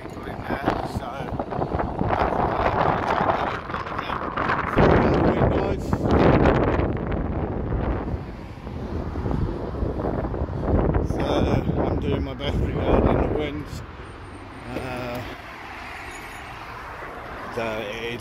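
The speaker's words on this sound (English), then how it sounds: "It's a bit of a very, very windy day" Heavy wind buffeting a microphone in loud low rumbling gusts that rise and fall, easing toward the end.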